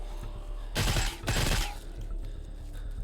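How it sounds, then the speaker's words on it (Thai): Gunfire in the zombie shooter game Into The Dead 2: two dense bursts of rapid shots, each about half a second, over a low steady game background with no talking. "เบียรกระสุนไปเก้านัดได้มาตัวหนึ่ง"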